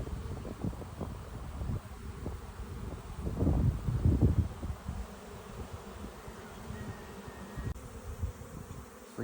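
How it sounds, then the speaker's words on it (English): A swarm of bees buzzes around a blueberry bush outdoors, a continuous drone that swells loudest midway, with wind noise and rustling leaves. "This is where the bees were."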